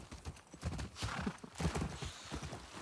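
Horses' hooves clip-clop on hard ground in the video game The Last of Us Part II, a quiet, uneven run of steps with a faint snort or whinny in the background and no clear talk.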